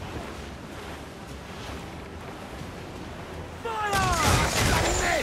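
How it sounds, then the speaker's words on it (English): Naval battle in Assassin's Creed IV: Black Flag with ships firing mortars at sea, wind and surf rumbling throughout before a loud burst of blasts and whistling projectiles in the final seconds. "They're firing mortars!"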